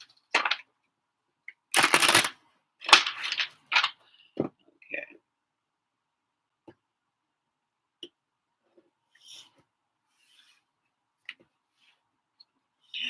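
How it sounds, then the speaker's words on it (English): Tarot cards being shuffled by hand in a few short papery bursts, loudest near the start, then sparse faint taps and card slides in a quiet room. "So we get a little couple more shuffles in."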